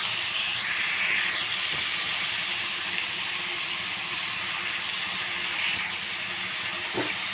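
Chopped tomato and onion fry steadily in a pan for egg biryani, giving a continuous soft hiss and sizzle with a faint clink near the end and no talking.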